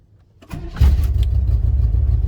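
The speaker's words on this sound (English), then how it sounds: "All right, guys, round 2 of cranking it." A 1994 Chevy Blazer K5 with a blown head gasket or intake manifold cranks briefly and fires up, settling into a loud, close, rough idle.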